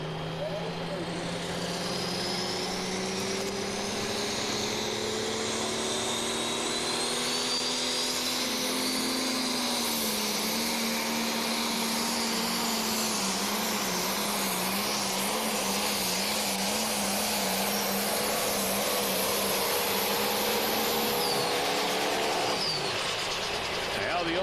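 Moody pulling tractor driven by Justin Smith roars steadily down the track at a truck and tractor pull in Osceola, Iowa, a loud sustained engine drone rising slightly in pitch across the run, with an announcer talking over it throughout.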